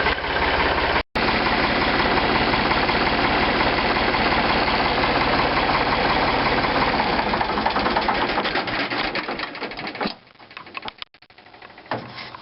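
A Ford 3600 40 hp farm tractor engine idles steadily and loudly up close, a continuous diesel rumble with a brief dropout near the start and a rougher, uneven patch toward the end.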